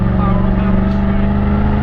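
A Mustang Shelby GT500 engine drones steadily and loudly at high revs down a track straight, a continuous close-up roar with a faint voice underneath.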